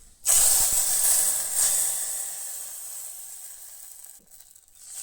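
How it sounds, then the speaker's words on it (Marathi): Hot spice tempering poured into cooked dal lets out a sudden loud hissing sizzle. It surges at once, then slowly fades and dies away over a few seconds. "आतां ही फोडणी दाळीन ऍड करा."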